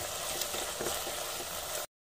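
A sauce seasoned with salt and ground black pepper sizzles steadily in a pan, a close, even frying hiss with light stirring, cutting off abruptly at the end.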